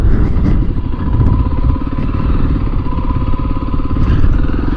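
A motorcycle piled with camping gear labors uphill on Muddy Mountain toward a campground, its engine a steady, close, rumbling drone with rhythmic pulsing throughout.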